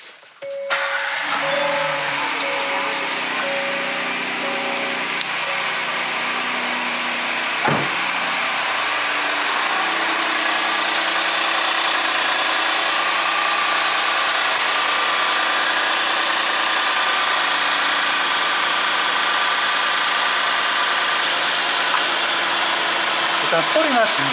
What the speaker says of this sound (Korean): 시동 좀 걸어 볼게요.